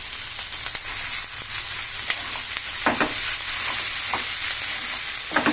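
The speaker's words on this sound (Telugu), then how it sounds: "ఇప్పుడు మనం ఇలా పాలకూర వేసుకోవాలి." Spinach frying with softened onions in a pan, a continuous sizzle broken by scraping stirs and a few louder bursts as the leaves are turned.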